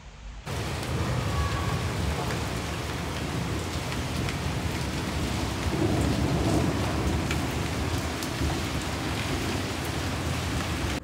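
Rain pours steadily outside in a dense, even hiss, with a low thunder rumble swelling briefly midway, and no voices.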